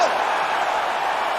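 Loud, steady crowd roar from an arena audience in the PS5 video game UFC during a fight, a dense wash of cheering throughout.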